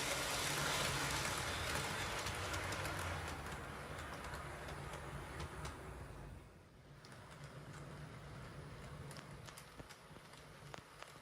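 A model train rolls over curved Setrack points, a steady close rattling rumble with faint clicking over track joints, easing slightly quieter partway through.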